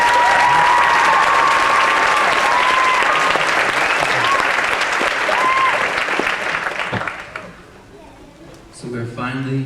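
A graduation audience applauds loudly and steadily, a dense wash of many clapping hands welcoming a student speaker, holding strong before fading out near the end as a voice begins.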